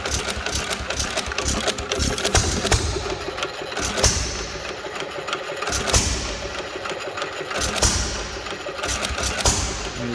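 Antique hit-and-miss engine running steadily, a continuous mid-pitched chugging with recurring heavier thumps every couple of seconds, close and fairly loud with no talking.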